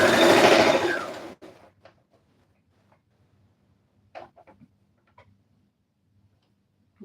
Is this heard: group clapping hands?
no